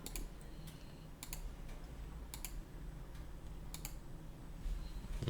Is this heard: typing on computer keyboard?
yes